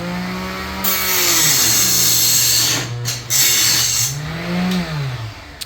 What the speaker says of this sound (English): he's cutting bushing